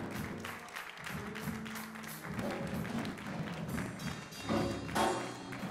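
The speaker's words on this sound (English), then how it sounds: "Why don't you clap your hands and just tell God thank you." Church congregation clapping hands together at the start of a worship service, a fairly steady mid-level patter of claps with some louder bursts toward the end, a few voices mixed in.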